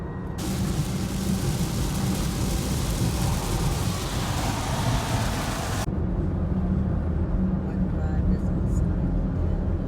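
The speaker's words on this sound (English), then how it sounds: "This must be the front. Maybe even a thunderstorm?" A thunderstorm with steady rain rumbles continuously on a dark afternoon in Massachusetts, with a dense wash of rain and low thunder that drops partly in texture midway, and no talking.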